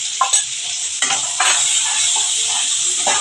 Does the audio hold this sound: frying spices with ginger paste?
yes